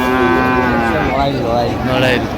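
Cows at a cattle market moo loudly and close by, a long drawn-out low call that carries through the whole stretch with no one talking.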